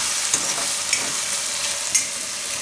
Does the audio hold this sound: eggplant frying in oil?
yes